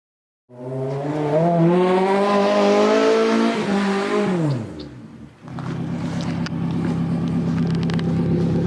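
A Toyota Corolla drifts and spins out, its engine revving hard under a long tire squeal that bends downward as the car slides, then settles into a steady lower engine drone, close and loud.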